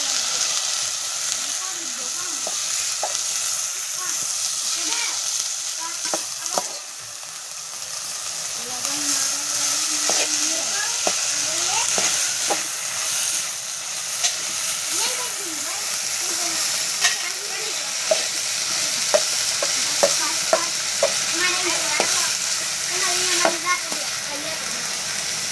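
Sprouted moong beans sizzle and fry in a pan, a steady crackling hiss running throughout with scattered stirring clatters and a voice speaking in Gujarati partway through.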